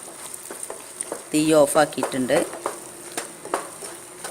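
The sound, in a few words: stirring ginger candy in a hot pan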